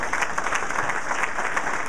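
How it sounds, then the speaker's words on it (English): An audience applauds the Amherst College hockey team at an NCAA men's hockey event, steady dense clapping that carries evenly from start to end. "if you all would stand for a nice round of applause"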